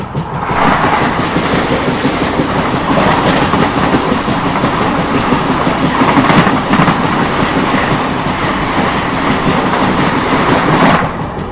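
Humsafar Express non-stop train runs at speed on Indian rails near New Delhi while overtaking, a loud continuous rumbling roar with rhythmic clickety-clack of wheels over rail joints throughout.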